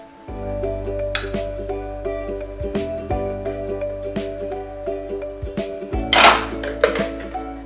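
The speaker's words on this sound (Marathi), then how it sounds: "गॅसवर कढई ठेवून त्यात तूप टाकू।" A kadhai is set on a gas stove and ghee goes in, with repeated metallic clanks and clinks of the pan and utensils, close and distinct over a low steady hum.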